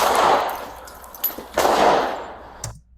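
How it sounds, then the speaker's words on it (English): Several sharp gunshot cracks from a police shooting in Albuquerque ring out, one loud, another a moment later, and a shorter third one near the end, with echoing tails. "Did you hear that third shot?"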